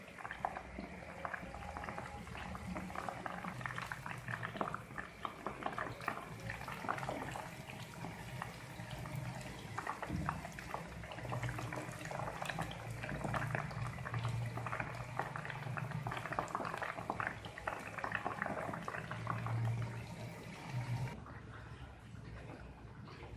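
Chicken pakora deep frying in hot oil over a high flame: a steady, soft bubbling and crackling that continues evenly throughout, fairly faint and with no voices.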